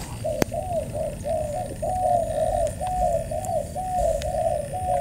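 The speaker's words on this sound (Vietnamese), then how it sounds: "chim đẹp quá này" A dove coos in a steady repeating rhythm of about a dozen soft calls outdoors on An Loc islet in Cau Ke, over a faint background hiss and a single sharp click near the start.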